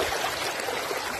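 Water from an underground spring flowing through a farm canal, a steady close rush and trickle that fills the short stretch without any voices.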